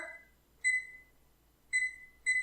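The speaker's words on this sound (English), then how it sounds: "I'm going to set the timer" Electronic beeps from a kitchen timer sound close by, three short tonal chirps spaced about a second apart in a quiet room.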